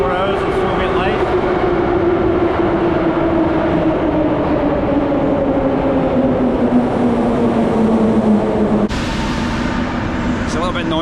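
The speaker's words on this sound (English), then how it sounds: "It's a little bit noisy with the trains coming in and out" Moscow metro trains move through Mayakovskaya station with a loud, continuous rumble and a slowly falling whine that cuts off abruptly near the end, while a voice talks over the din.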